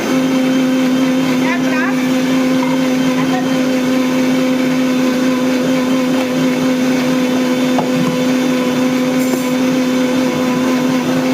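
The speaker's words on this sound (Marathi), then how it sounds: "मंडळीनो मिक्सर लायलाय मिक्सर." A mixer grinder whirs loudly and steadily as it blends banana juice, a constant motor drone that never changes pitch.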